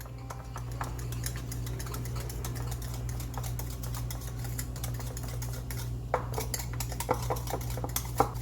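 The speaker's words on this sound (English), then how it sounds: "We're gonna whisk that all together." A whisk clicks rapidly against a bowl while mixing a sugar mixture for a New York style cheesecake, producing light metallic ticks over a steady low hum, close and without talk.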